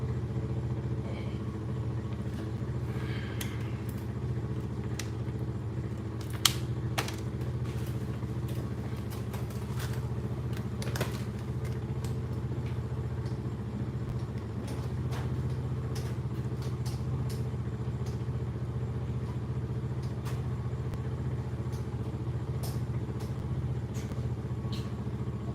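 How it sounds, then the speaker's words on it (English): An ATV driving by, heard as a steady low engine drone running continuously with occasional clattering knocks and clicks nearby. "What the fuck is this dude driving an ATV?"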